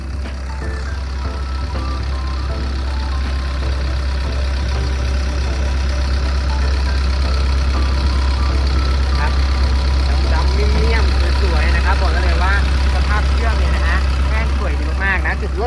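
The diesel engine of a Kobelco SK135SR-2 excavator idles smoothly and steadily with a deep low rumble, continuous throughout, while people talk nearby.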